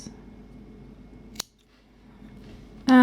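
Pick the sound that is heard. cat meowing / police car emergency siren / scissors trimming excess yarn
scissors trimming excess yarn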